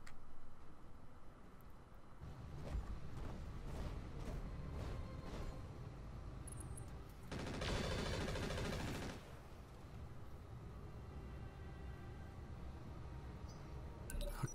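Mech weapons fire in the Roguetech battle game as a rapid run of ticking shots, with a denser burst of firing in the middle, heard alone with no voices.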